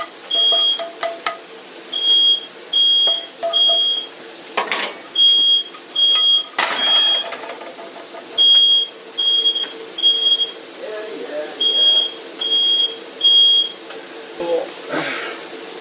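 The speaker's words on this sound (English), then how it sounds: "there goes the smoke detector" A smoke alarm, set off while cooking bacon, sounds in repeated clusters of high, piercing beeps, fairly loud and steady, with a few clatters and a brief voice near the end.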